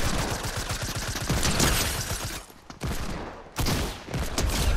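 Rapid bursts of gunfire from the video game Fortnite, loud and dense with brief gaps, a pistol among the shots in a team firefight.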